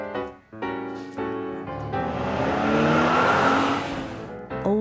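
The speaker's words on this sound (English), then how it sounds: "Electric delivery car." An electric delivery car drives past with a whooshing, building rush of tyre and motor noise that swells loud in the middle and fades, after a few short musical tones at the start.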